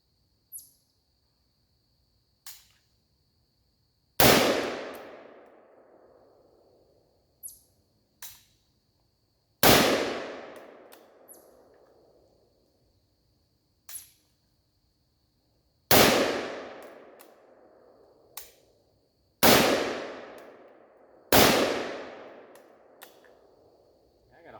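Single shots from a PSA AK105 rifle at a close-range outdoor range, six loud sharp reports spaced a few seconds apart, each with a long decaying echo tail, plus several fainter clicks and metallic clanks between shots.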